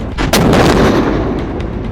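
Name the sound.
anti-tank guided missile firing in army exercise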